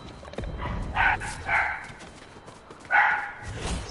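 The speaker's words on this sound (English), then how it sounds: "Stupid dog." A dog in a Fortnite Battle Royale match gives a few short, mid-distance barks in quick bursts over steady background game noise.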